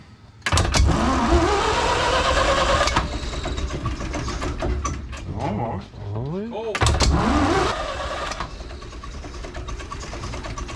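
A Gardner marine diesel engine cranks with a sharp start, chugs and whines unevenly, briefly falters, then catches again and runs roughly, not yet firing on all cylinders; short remarks are spoken over it.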